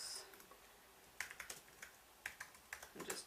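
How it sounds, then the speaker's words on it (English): Computer keyboard keys tapped in short bursts of quick clicks with pauses between them, faint and close, over a quiet room with no talking. "I'm just typing in the name"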